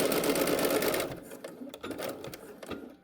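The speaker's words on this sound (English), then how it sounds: "you just continue sewing to the end." Sewing machine stitching a zipper and its lining, a steady close whirring run for about a second, then slowing into scattered light mechanical taps and clicks.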